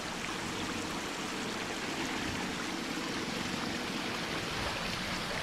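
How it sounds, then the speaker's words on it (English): A small waterfall on an off-road trail pours steadily, giving a continuous hissing rush of falling water at moderate distance, even and unbroken with no voices. "One of the unique obstacles is this little waterfall section."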